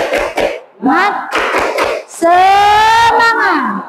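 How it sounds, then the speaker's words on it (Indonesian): A classroom group stands and claps a spirit-clap rhythm during an ice-breaking activity, quick claps mixed with loud voices chanting along. "Ice breakingnya tepuk semangat ya."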